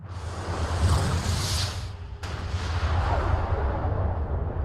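A loud, sustained boom of an explosion sound effect rolls on as broad rumbling noise, with a sharp cut midway before the roar continues and slowly fades.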